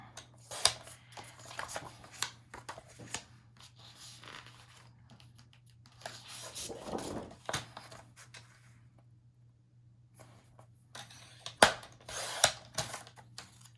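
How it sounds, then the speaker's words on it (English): Scissors snipping apart paper page pockets, a scattered run of crisp cuts and rustles with quiet pauses between them, close and fairly soft. "So we're just going to cut all of them apart."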